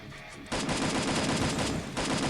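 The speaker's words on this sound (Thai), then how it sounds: "ทั้งขวาทั้งซ้ายเลยนะครับ เสียงปืน" Rapid bursts of automatic gunfire in the video game Free Fire, loud and continuous, with a brief pause before the shooting resumes.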